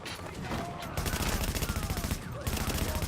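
Sustained automatic gunfire from a heavy-recoil weapon in The Division 2, a loud, rapid stream of shots running almost continuously with only brief gaps.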